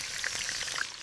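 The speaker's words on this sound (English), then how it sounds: "Hear that sizzle? That's the sound of magic starting." Steady close-up sizzling of pork frying in hot olive oil, a bright crackling hiss with small pops throughout the brief moment.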